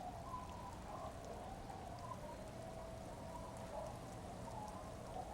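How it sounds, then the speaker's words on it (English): Soft, steady rainfall from the Disco Elysium video game patters on without a break, a gentle constant hiss with no voices. "The very subtle rain noises."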